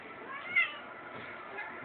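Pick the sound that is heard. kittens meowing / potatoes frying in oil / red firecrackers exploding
kittens meowing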